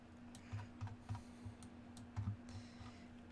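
Soft computer mouse clicks at a desk during 3D building modelling, several light separate clicks spaced irregularly over a steady low electrical hum, fairly close and quiet, no talk.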